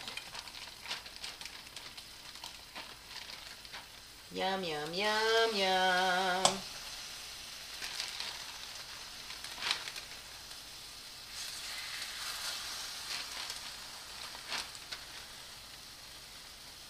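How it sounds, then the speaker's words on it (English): Bulgogi sautéing in a pan gives a faint, steady sizzle throughout, briefly overlaid by a short sung voice. "Okay, so I'm going to put my bulgogi in, and we're going to start sauteing that."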